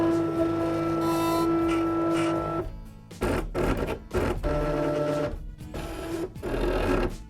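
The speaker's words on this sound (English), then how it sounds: "Now, let's listen to the Cricut Expression." Cricut Expression cutting machine running a cutting test, a loud mechanical whirring hum that breaks into stuttering bursts of motor movement and pauses, close up.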